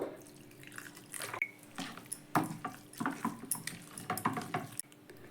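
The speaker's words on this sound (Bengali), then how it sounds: "তো জলটা কিন্তু আমি বারে বারে অল্প অল্প করে দিচ্ছি" Small amounts of water are poured in repeated additions into a semolina batter, giving faint, irregular drips and short trickles close by in a quiet kitchen.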